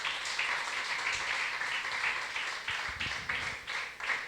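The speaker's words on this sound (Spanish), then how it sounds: "Cuántos le dan un aplauso a Jesucristo en esta hora" A church congregation claps together, dense applause sustained and fairly near, with the clapping turning more uneven and loosening toward the end.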